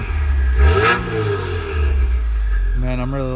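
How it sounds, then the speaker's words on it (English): A 2020 Subaru WRX with a Stage 2+ tune and stock mufflers revs up loudly nearby, its pitch rising and falling, then climbing again in a second rev near the end. "with the stock mufflers, it sounds pretty good"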